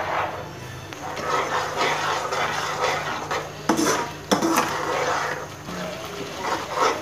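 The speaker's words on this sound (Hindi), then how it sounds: "दही को हल्का भूनना है मेरे को।" Yogurt stirred and lightly fried in a pan for dahi bhindi, with a spoon scraping and clinking against the pan over a soft sizzle, including a few sharper knocks, close up and without talk.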